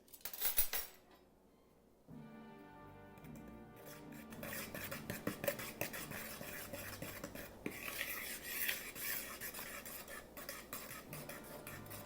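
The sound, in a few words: mixing flour, sugar and dry biscuit ingredients in bowl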